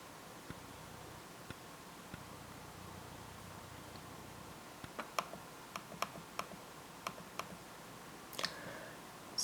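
Computer mouse clicks at a desk: faint, sparse single clicks, then a quicker run of light ticks, heard over a steady low background hiss with no talking.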